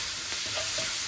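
Battered cauliflower for gobi manchurian sizzles and crackles as it is stirred in a pan, a steady bright hiss with a few soft scraping stirs, close and alone.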